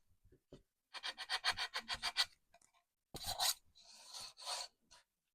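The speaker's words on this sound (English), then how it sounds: "Sand a little on the corners." Corners of a wooden picture frame being sanded by hand, with short close rasping strokes in a quick rhythmic run, then a pause and a few more scrubbing strokes.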